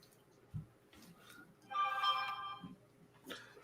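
A phone rings once, a faint tonal burst lasting about a second, set against a quiet room with soft scattered noises.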